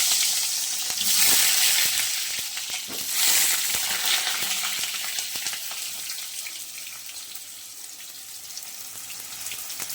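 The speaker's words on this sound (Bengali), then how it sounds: "দেখুন, তেল গরম হয়ে গেছে, এবার আলুটা ভেজে নেব।" Potatoes frying in hot oil give off a steady, loud crackling sizzle that swells briefly at times and then settles to a constant hiss, with no voices.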